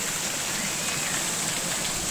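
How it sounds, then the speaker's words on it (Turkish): Water of a waterfall near Paşaderesi in Çameli, Denizli pours in a steady, close, full rushing wash with no break, alone without voices. "Şimdi bu suyu şöyle şelaleyi yakından göstereyim size. Çok güzel akıyor."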